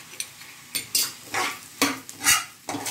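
Lemon rice stirred in a pan after the flame is turned off, a spoon scraping through it in a run of loud, close, uneven strokes of a few beats each.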